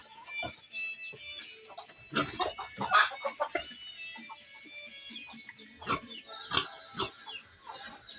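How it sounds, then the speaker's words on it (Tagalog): Chickens cluck and squawk in irregular bursts, several birds close by, with short loud calls scattered among softer clucking. "andyan na naman yung mga pasaway natin mga alagang manok"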